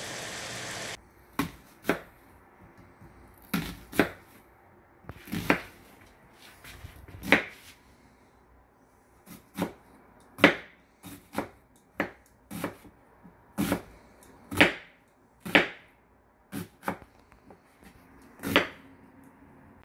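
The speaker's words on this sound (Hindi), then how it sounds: "मैं प्याज काटने लगी हूँ" Onions are chopped with a knife, making sharp, close cuts spaced irregularly across a quiet room, sometimes single strokes and sometimes quick pairs, each a crisp tap against the board.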